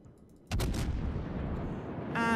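USS New Orleans, an American cruiser in World of Warships, fires a loud broadside burst after a brief quiet moment, its heavy blasts rolling into a sustained rumble of battle noise with another crack near the end.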